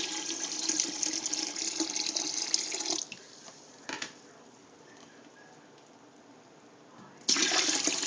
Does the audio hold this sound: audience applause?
no